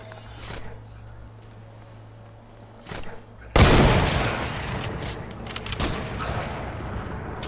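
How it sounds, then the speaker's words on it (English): A loud, sharp sniper rifle shot in a multiplayer shooting game, with a broadband blast and lingering decay, follows a few quieter pops and thuds over low background game noise. "he jumped before I sniped him"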